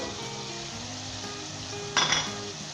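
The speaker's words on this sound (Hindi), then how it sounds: "तली हुई प्याज और अच्छे तरीके के साथ हम इसे भूनेंगे 5 मिनट तक।" Chicken masala with tomatoes and fried onions fries in a pot, a soft continuous sizzle close by, with a brief louder burst of stirring and utensil clinks near the end and no talk.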